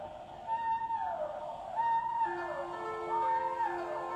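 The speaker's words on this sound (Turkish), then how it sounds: "Balinaların sesleri seni okyanusun kalbine davet ediyor." Whale calls in long, sliding moans and tonal wails, rising and falling in several overlapping phrases, with no other sounds around them.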